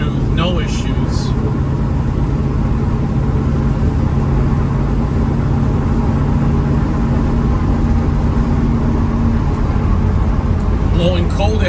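Steady, even road and engine drone from a 1968 Chevrolet Camaro SS cruising at about 40 mph, heard from inside the car. Tire and wind noise stay constant throughout, with no marked revving.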